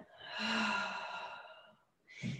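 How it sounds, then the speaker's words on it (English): A deep, breathy exhale during a power yoga class, loud and close, swelling and then tapering over about a second and a half, followed by the start of a short fresh breath. "breathing out."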